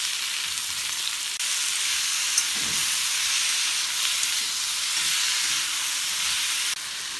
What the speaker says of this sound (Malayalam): 2 തക്കാളി കുറച്ച് വലിയ കഷ്ണങ്ങളാക്കി മുറിച്ചാണ് ഇതും കൂടെ ഇതിലേക്ക് ചേർത്ത് വീണ്ടും ഇളക്കി കുറച്ച് സമയം വഴറ്റാം.